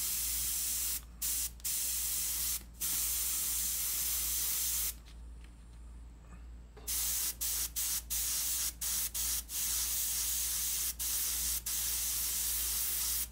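Steady airbrush hiss sprays in bursts, broken by short pauses and one longer gap midway, close and fairly quiet throughout.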